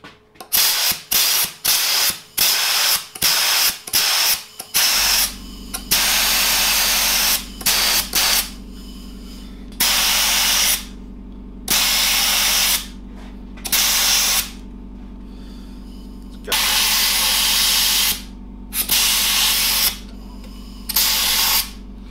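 Short bursts of compressed air blown into the gap between a handlebar grip and the handlebar, a rapid run of quick hissing puffs followed by several longer, loud blasts over a steady low hum.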